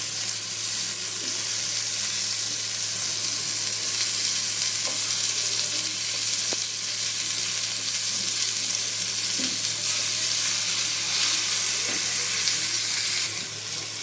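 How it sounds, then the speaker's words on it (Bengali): Slices of pointed gourd fry in a pan with a steady, loud sizzle that continues unbroken, with a few faint clinks of a utensil. "তো পটলের দুপিটি ভালো করে ভাজা হয়ে গেছে"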